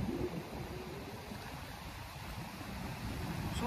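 Sea waves at a beach, a faint, steady wash of surf with no distinct breaks, heard alone.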